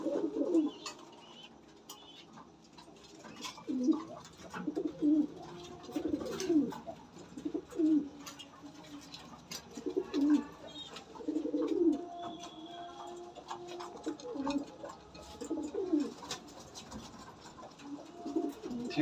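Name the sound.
pigeons cooing in breeding season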